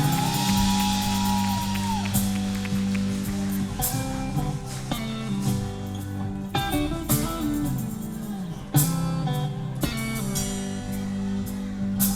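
Crowd shouting and whooping for a band at a live show in Columbia, SC, dense cheering layered over loud music throughout, with sharp bursts of yells rising above the mix.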